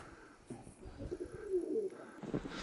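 Domestic pigeons coo inside a coop on a snowy winter morning in the mountains: a low, rolling coo rises in the middle, with soft rustling and shuffling around it and no voices.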